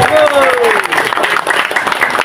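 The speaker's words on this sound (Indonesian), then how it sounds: "Tepuk tangan untuk Bapak Ibu." A seated crowd at an Indonesian gathering breaks into a short burst of loud, close applause, with a voice rising briefly over the clapping.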